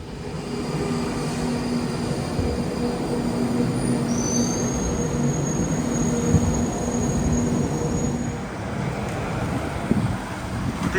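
A London Underground metro train rumbles into the station, loud and close, its wheels letting out a long high-pitched squeal midway as it slows; no voices.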